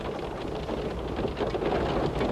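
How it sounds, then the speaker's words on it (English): Heavy rain pours down steadily during a tornado storm, a dense, continuous wash of drops with no voices over it. "The rain came down in buckets."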